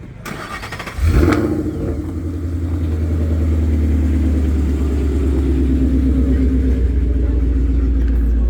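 At a Sunday car meet with Camaros and Mustangs, an engine turns over after a second and settles into a loud, deep, steady rumble that holds close by for the rest of the clip.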